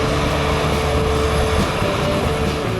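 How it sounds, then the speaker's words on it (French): An articulated Case IH T9.560 tractor pulls a Köckerling cultivator through a field for deep seedbed preparation, and its heavy engine drones in a loud, continuous, unbroken rumble. "Ce tracteur articulé assure une traction constante pour stabiliser la profondeur de l'outil."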